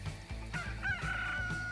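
Chickens and a rooster crow in the Transport Fever 2 video game, a farm sound set with hens clucking in short repeated bursts under a rooster's drawn-out crow, moderately close and fairly quiet.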